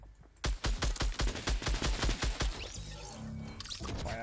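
Scar rifle in PUBG firing a fast automatic burst of about a dozen evenly spaced, punchy shots, loud and close, followed by a quieter tail of game ambience and clatter.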